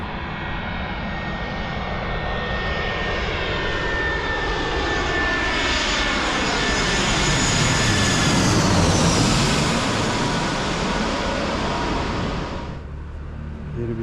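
A fixed-wing airplane's engines roar loudly at an airport on Corfu, a steady, powerful drone that swells toward the middle, holds, then drops away sharply near the end.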